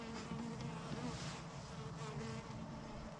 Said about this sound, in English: I'm gonna bring the bees over in a minute.